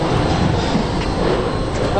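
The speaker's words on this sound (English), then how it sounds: "We made it onto the train." Steady broadband rumble of a train interior during a ride in Paris, continuous and loud across the whole stretch, with people talking over it.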